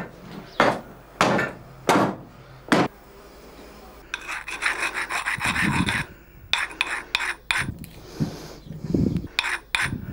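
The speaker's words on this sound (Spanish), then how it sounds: "la precisión de los golpes con la zuela, sin pasar el límite marcado para la superficie exterior" A hand adze strikes a hand-carved wooden bowl (dornillo) in several sharp, separate blows, then gives way to a stretch of steady rasping and scraping against the wood, with a few more knocks near the end.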